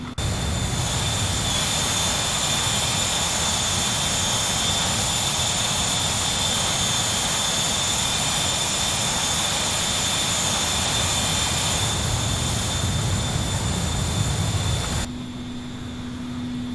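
A Cessna Citation Mustang light jet taking off in the X-Plane 11 flight simulator, a loud steady roar with a high whine that holds for about fifteen seconds, then drops abruptly to a quieter engine tone.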